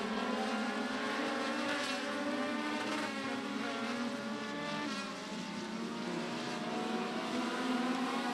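INEX Legends race cars lap Beckley Motor Speedway during a heat race, engines droning and whining steadily at full throttle, with pitch waves from several cars passing in close succession.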